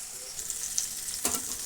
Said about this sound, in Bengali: এই জিরে গুঁড়া টমেটো দিয়ে ভালো করে আলুটা কষিয়ে নিচ্ছি